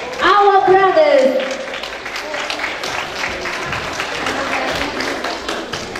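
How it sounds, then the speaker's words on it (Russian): Applause from a school audience for a youth dance group performing on stage, a dense wash of clapping that follows a brief loud voice at the start and continues steadily. "Ваши аплодисменты. Это не такие аплодисменты, какие вы хотели бы услышать. Еще громче."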